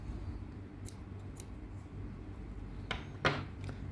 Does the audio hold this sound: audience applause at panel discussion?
no